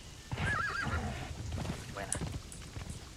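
A horse in the video game Conan Exiles lets out a loud, wavering neigh near the start, followed by clip-clop hoofbeats and game sounds under a voice talking.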